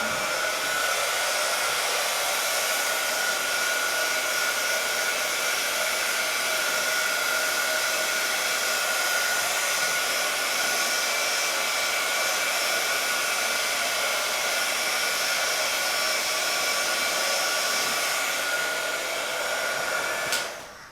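A hair dryer used as a heat tool blows steadily on freshly stamped ink, a loud, continuous whooshing airflow that runs without a break for about twenty seconds and then cuts off abruptly.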